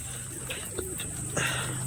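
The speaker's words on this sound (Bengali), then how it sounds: "দেখুন বন্ধুরা, পায়রার খাবার দিতে দিতে পাগল" Soft pigeon cooing with a few brief calls over a steady low background hum, fairly close, no talking, as the pigeons are fed paddy and wheat.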